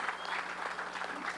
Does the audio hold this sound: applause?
yes